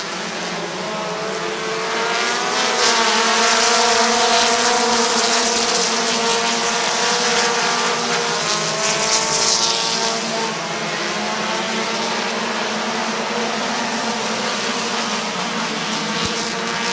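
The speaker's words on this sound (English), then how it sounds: "Brandon France going to sweep around and take over the race lead." Race cars roar around the Midvale Speedway track, a loud continuous engine drone rising and falling as the pack passes, with a faint announcer voice in the background.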